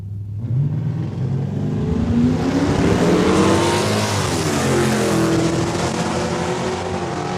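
Drag race cars, including a 2010 Charger, launch down a quarter-mile strip at a raceway in Saskatoon, Saskatchewan, with a loud, sustained engine roar that climbs in pitch as they accelerate away.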